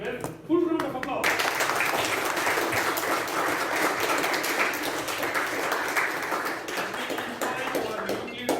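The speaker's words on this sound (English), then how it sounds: "let us give him a full round of applause." After a brief moment of talking, a crowd bursts into sustained, loud applause that carries on steadily for several seconds.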